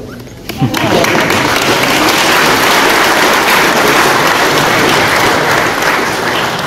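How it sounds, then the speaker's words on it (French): Loud, sustained applause from an audience at a book presentation in Tarbes, with a dense clapping roar that begins after a brief moment and carries steadily to the end. "Ami Bigourdan, pour la première fois, vous pouvez applaudir une équipe béarnaise"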